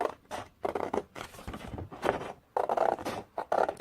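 Scissors snipping through a paper card up to a score line while making a Halloween mini double flip book, a run of short close crisp cuts in bursts with brief pauses.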